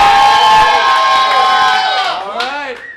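A studio audience at a live game-show style showdown cheers and whoops loudly together, many voices shouting over one another in a sustained burst that tapers off near the end.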